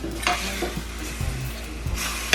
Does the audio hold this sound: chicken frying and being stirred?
yes